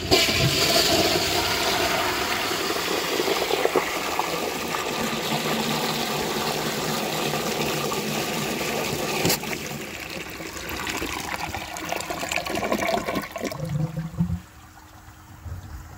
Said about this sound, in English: I will show you the flush on this 1983 American Standard Plebe when that is all done filling.